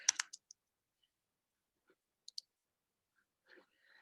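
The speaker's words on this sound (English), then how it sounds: "I'll go to the search box up here and I'll type in" Light computer keyboard typing into a search box: a quick cluster of soft key clicks at the start, a couple more isolated taps midway, and faint clicks near the end, all in a quiet room.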